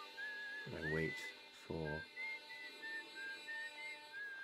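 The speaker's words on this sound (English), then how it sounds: "listen to some wonderful little whistling and harmonica play" Gentle whistled melody from the Outer Wilds game drifts along in repeated short phrases, with a brief spoken remark cutting in partway through.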